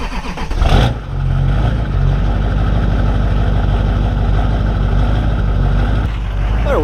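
A Chevy Duramax LB7 diesel truck with a ZF6 manual gearbox cranks briefly and catches, then settles into a loud, steady, close diesel idle that holds without pause.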